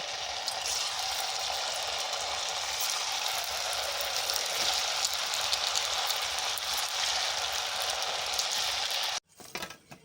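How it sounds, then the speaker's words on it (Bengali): Homemade kurkure made from flattened and puffed rice fries in hot oil, giving a steady broad sizzling hiss that stops abruptly just before the end. "বাকি কুরকুরেগুলোকেও একই রকম করে ভেজে নেব"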